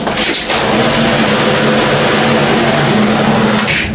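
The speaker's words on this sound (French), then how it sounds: "C'est les camions qui nettoient les routes, là, la machine qui nettoie." Street cleaning trucks pass outside, a steady, loud engine rumble with a low droning hum that fills the whole stretch and holds constant as the machines go by.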